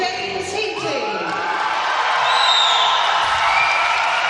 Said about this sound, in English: you'd be hard pushed to find a bigger cheer in this whole week of diving than when James Heatley from the Edinburgh Club steps up onto that podium